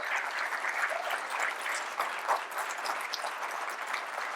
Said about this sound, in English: So, 3, 2, 1, clap!